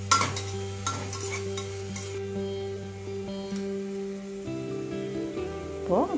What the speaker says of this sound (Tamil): தக்காளி நல்லா வதக்கிக்கிறேன்